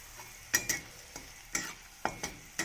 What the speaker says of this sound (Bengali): রসুনগুলো হালকা হালকা করে ভাজা হয়ে গেলে লাল লাল করে ভাজা হচ্ছে